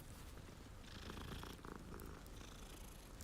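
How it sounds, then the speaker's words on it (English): A cat purrs in the Hogwarts video game, a low continuous rumble kept quiet under a steady wash of game rain, with no talking. "Let me talk with the kitty."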